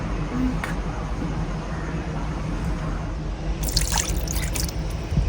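Liquid poured from a cup into a container outdoors, a continuous trickling wash with a brighter splashing burst near the end, fairly close.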